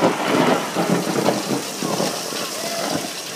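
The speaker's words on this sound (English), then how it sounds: "That's how much it's raining." Heavy rain pours down in a steady, loud, dense hiss on a rainy day in California, with voices faintly present beneath the downpour.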